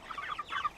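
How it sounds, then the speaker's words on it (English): Chickens clucking in a garden setting, several quick overlapping calls in short bursts, moderately close, with no talk. "Anytime they see me, the chickens, they want to eat. That's why they're making noise"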